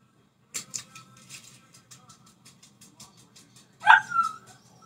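A puppy barks in short yips, a run of quick faint barks followed by a louder, closer whimpering bark near the end, indoors with little else around.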